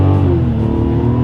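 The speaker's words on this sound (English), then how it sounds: "let's go ahead and test out the paddle shifters" Mazda CX-90 SUV in sport mode revs hard in first gear with paddle-shift changes, a loud, close engine note climbing and dipping in pitch as the gears shift.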